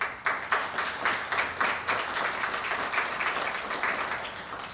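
A crowd applauds with steady, dense clapping that holds at an even level throughout.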